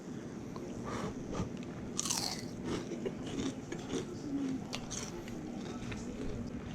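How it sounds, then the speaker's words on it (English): Close, steady crunching and chewing of fried rockfish (striped bass) skins, with crisp bites repeating continuously over a constant background hiss. "Little crunchy rockfish skins."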